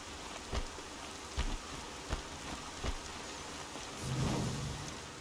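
Steady rain falls in the video game Horizon Zero Dawn, a dense even hiss with a few soft thuds and a low rumbling swell near the end, with no voices.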